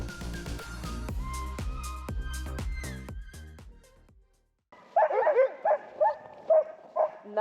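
Sled dogs bark and yip in sharp repeated bursts just before dog sledding on a frozen lake, loud and close, following a stretch of music that cuts out.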